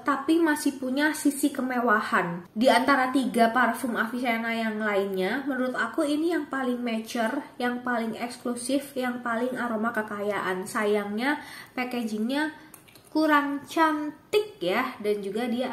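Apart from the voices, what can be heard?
No distinct noise like a dog, phone or traffic.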